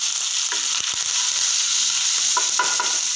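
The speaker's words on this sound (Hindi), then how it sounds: "जीरा डालने के बाद हम डालेंगे इसमें मस्टर्ड सीड। मस्टर्ड सीड डालने के बाद डालेंगे हम करी ली।" Cumin, mustard seeds and curry leaves frying in hot oil in a pan, a loud, dense, continuous close sizzle with a few faint spoon knocks scattered through it.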